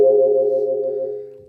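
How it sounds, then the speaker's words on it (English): One sustained synthetic string-like tone holds briefly, smooth and plain, then fades out. "If I sit down to write a string part and have some basic preset sound like this"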